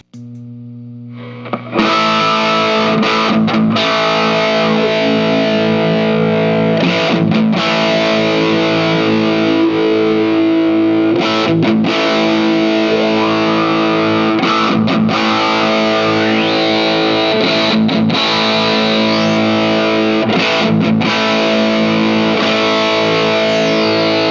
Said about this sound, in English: So you hear that almost kind of like filtery effect that it has.